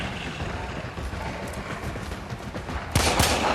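Gunfire from the video game Warframe: a couple of sharp, loud shots near the end cut through a steady bed of dense game noise and ambience, with no talking.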